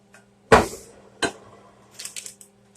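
A spoon clinks against a dish twice in sharp, close metallic taps, followed by a few lighter faint scrapes and clinks.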